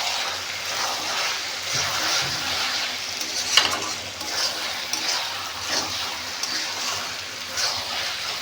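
Tomato and masala frying in a pan for a green chicken masala gravy, a steady close sizzle with occasional stirring scrapes and soft spatters.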